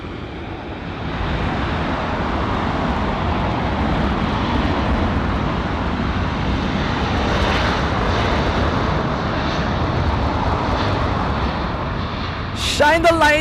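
A jet airliner departing LAX roars steadily during its takeoff, a broad loud rumble that holds throughout, with people talking briefly near the end.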